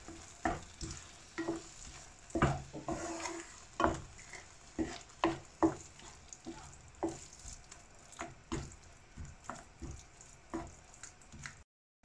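Sliced chicken being stirred in a hot pan with turmeric, cumin and curry powder, with a rhythmic series of about a dozen scraping strokes over a soft, steady sizzle.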